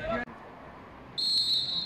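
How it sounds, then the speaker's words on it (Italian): A referee's whistle gives one sustained, shrill blast during a Serie A d'Elite match between Sporting Roma and Montagnola. It comes after a brief voice, over quiet arena ambience. "Fischia l'arbitro, va Istrati di potenza"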